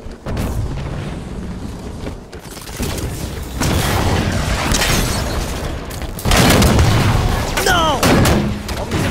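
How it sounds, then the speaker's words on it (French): A grenade blows up in the Halo 5 video game, a loud, full boom in the middle of ongoing combat with heavy gunfire and further blasts, while a voice talks over the action. "Grenade!"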